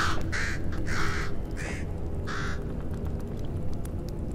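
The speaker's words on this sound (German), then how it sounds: "Dieser Vogel!" Harsh crow-like caws from a bird in the Nordic folklore horror game Bramble: The Mountain King, four bursts in quick succession and then quiet, sounding over a steady low ambient rumble.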